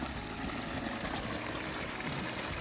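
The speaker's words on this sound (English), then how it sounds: "We've got like an initial 12-foot sheeting waterfall, just so beautiful." A 12-foot sheeting waterfall pours in a small backyard, a steady, soft, continuous wash of falling water with no voices.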